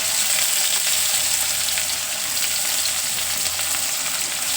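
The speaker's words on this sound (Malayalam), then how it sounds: "പിന്നെ നമുക്ക് കുറച്ച് കഴുകി വെച്ച കറിവേപ്പില ഇതെല്ലാം ഇട്ട് കരിയാതെ നമുക്ക് മൂപ്പിച്ചെടുക്കാം" Ginger, green chili and curry leaves sizzle and fry in hot oil with onion in a pan, a steady, dense crackling hiss that runs unbroken and fairly loud throughout.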